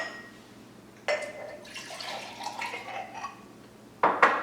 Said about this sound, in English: You just need 1 cup